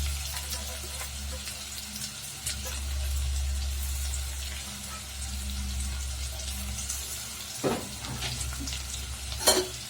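Small apple pieces stir-frying in a pan for apple rice, a steady soft sizzle with occasional scraping stirs and a few clinks near the end.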